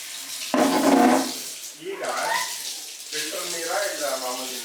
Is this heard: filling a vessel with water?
yes